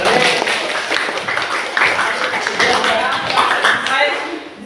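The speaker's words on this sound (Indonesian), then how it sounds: "Tepuk tangan." A group of students claps hands during a physical fitness class: a dense burst of close, loud clapping that runs throughout, with voices talking over it.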